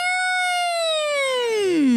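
A single singing voice imitates a siren as a vocal exercise, holding a high pitch and then sliding smoothly downward near the end, clear and alone.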